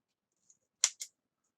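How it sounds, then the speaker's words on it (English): Two quick, crisp snips from cutters severing a part of a 1/72 scale Airfix Hawker Hurricane plastic model kit from its sprue, close and isolated in near silence. "Now we can cut this one off the sprue."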